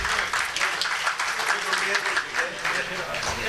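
Audience applause for Tariq Bhatti rising and holding steady, a dense, continuous patter of many hands clapping at a live stage performance with no break.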